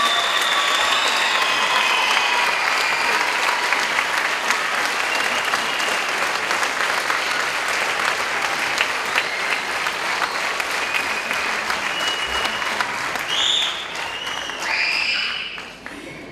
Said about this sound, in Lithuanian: Gausiais aplodismentais padėkokime nuostabiems rėmėjams.